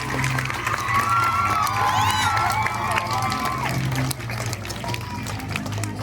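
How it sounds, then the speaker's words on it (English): Crowd at an Independence Day school celebration claps and cheers for dance students, with children's shouts and voices rising over the applause before it tapers off. "All of you, please give a big round of applause for our dance students."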